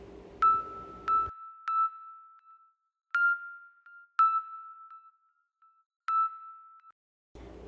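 High synth notes from a GarageBand song ring out as bright, pinging tones, about seven separate notes spaced irregularly, each decaying with a short tail over near silence, with no voices.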